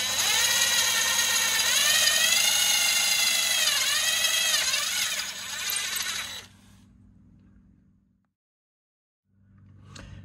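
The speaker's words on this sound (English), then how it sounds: "We're going to take our 7/32 inch drill bit" A power drill with a 7/32 inch bit whines loudly and steadily for about six seconds while drilling holes, then winds down and stops, leaving brief silence before faint noise returns.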